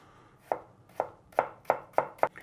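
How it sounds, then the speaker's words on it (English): Six crisp knife strikes cut through a green Granny Smith apple on a cutting board while julienning it, falling in a quickening rhythm, close and clean with no talking. "let's start with a green Granny Smith apple. And I'm just gonna julienne this."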